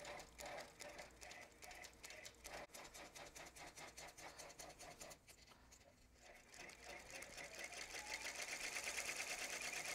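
A Brother Entrepreneur X PR1055X embroidery machine stitches letters with a steady, rapid mechanical needle rhythm, loud and close, briefly easing mid-run before resuming with a brighter, busier whirr.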